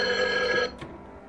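A telephone bell rings loudly and steadily for about two thirds of a second, then cuts off abruptly, leaving a faint clunk and quiet room tone.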